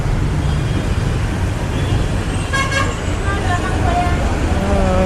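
A bus pulls into Vijayawada bus station amid loud, steady traffic rumble, with a horn tooting briefly in the middle and people talking over the noise.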